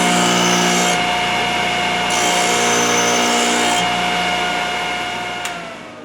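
A Thorvie AV-40 sharpening machine runs steadily with a constant hum and a tonal whine while a cutter gets a couple of light passes, the level staying loud and even before tapering near the end.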